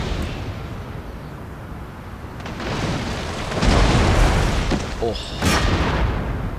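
Ship cannon fire in Empire Total War during a battle against pirates, with deep booms and rumbling blasts rising mid-way over steady battle ambience, and a man briefly exclaiming.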